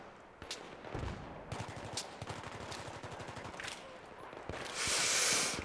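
Rapid automatic gunfire in a Battlefield video game, sustained bursts of machine-gun fire with fusillade-like cracks running under the game's mixed battle noise, fairly loud and continuous throughout.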